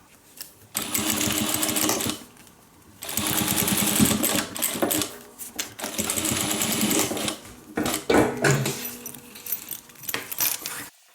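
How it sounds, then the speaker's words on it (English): A home sewing machine stitches a straight seam along a fabric edge, running in several loud, steady bursts with short pauses between them, close up and with no talking. "I'm placing my sewing foot right on the edge and I'm just going to stitch straight down."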